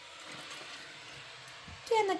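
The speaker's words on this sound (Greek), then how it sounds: "Προσθέτουμε ζεστό νερό." Hot water is poured into a glass over a sachet of powder, a short burst at the end with a rising pitch as the glass fills, after a quiet background stretch.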